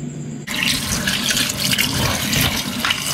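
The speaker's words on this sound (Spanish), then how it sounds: "Lo vamos a lavar para quitarle toda la tierrita." A kitchen tap suddenly opens and gushes loudly over herbs being rinsed of dirt, the water splashing and spattering steadily up close after a brief quiet start, with no talking.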